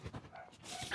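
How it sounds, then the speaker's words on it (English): A dog pants quickly and faintly close by in a brief burst of rapid breaths. "If you hear the dog barking, we're just going to have to deal with that."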